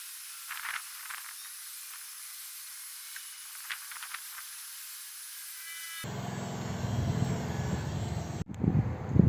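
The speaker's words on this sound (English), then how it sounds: "thus the heat gun." A heat gun runs close up, curing Duplicolor engine enamel freshly painted on a 1973 engine block. It starts abruptly after a quiet stretch with faint ticks, then holds a loud, steady blowing roar and hiss to the end.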